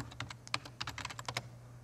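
Fingers type a password on a computer keyboard in a quick, irregular burst of close, crisp key clicks, with no one talking.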